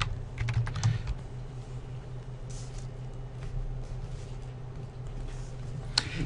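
Someone types a password on a computer keyboard, a short run of faint, soft key clicks over a quiet steady background hum.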